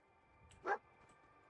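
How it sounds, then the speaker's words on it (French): A single short dog bark from the video game Fallout, one brief clear burst standing out above a quiet background hum of game ambience. "Regardez, c'est pas le chien de la série, c'est Kadigou"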